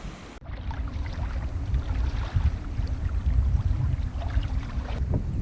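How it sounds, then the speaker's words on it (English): Strong wind buffeting and choppy water slapping around a canoe on Wakimika Lake, a loud, continuous roar of gusts with waves underneath, no talk. "It's a lot windier and a lot choppier on this."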